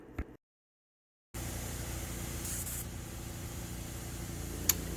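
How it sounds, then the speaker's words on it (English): A Harbor Freight detail spray gun heavily sprays a cockpit conditioner chemical onto heavily soiled car interior fibers, producing a steady, close, hissing spray that runs continuously after a short pause. "So that's what I'm doing here, is just heavily spraying this interior so the chemical can work really well when I start drill brushing it."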